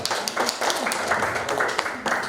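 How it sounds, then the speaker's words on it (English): Audience applause for a team at a languages and leadership training program at the Singapore embassy: a steady wash of clapping from a group, fairly close, with voices mixed in throughout. "Round of applause for Team 4."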